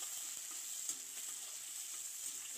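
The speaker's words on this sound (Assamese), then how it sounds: "এইখিনি অলপ ৰঙা হোৱালৈকে ভাজিম।" Onions fry in a pan until lightly browned, giving a soft, even sizzle heard alone at low level with a few faint stirring clicks.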